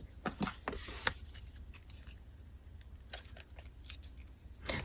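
Scissors snip through paper while a small dinosaur figure is cut out for a card craft, a run of crisp, close cuts in quick irregular bursts over a faint room hum.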